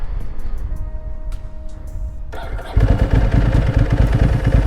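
A 2006 Ducati 749 twin-cylinder motorcycle with a choke cranks and fires up, settling into a loud, close, lumpy idle after a brief starter whine.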